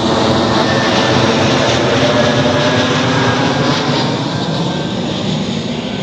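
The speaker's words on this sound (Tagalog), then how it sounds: "Ay, dumapay aeroplano." A loud, steady roar of an airplane passing overhead in a rural provincial garden fills the whole stretch, a continuous broad engine rumble with no speech.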